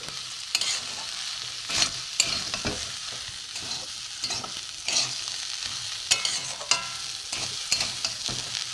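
Green peas and puffed rice frying in a pan, a quiet continuous sizzle broken by repeated stirring scrapes and light clinks from a spatula, with no voices.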